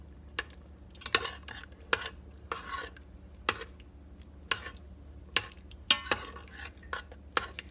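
A utensil stirs and scrapes short rib gravy thickening in an Instant Pot on the saute setting, with irregular, fairly loud metallic clicks and scrapes against the inner pot and no talking.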